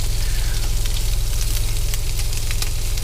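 Sockeye salmon sizzles scale side down in a pan while cooking inside a truck, a loud, continuous close-up hiss and crackle over a pulsing low rumble, with no voices.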